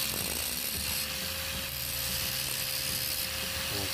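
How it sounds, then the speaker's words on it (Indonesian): A Doliz BA 730 angle grinder runs steadily with a constant high whine and a sustained grinding rasp for the whole stretch, close and loud, with no voices. "kita coba tes untuk menggerinda ini"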